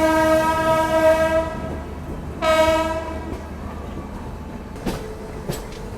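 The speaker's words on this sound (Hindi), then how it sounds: "WAP4 लोकोमोटिव और साथ में लालागुड़ा का WAP7 भी यहीं पे है।" Indian Railways WAP4 and WAP7 electric locomotives sound a steady horn, one long blast and then a second, over a constant rumble of the train, with a couple of sharp metallic clanks near the end and no talk.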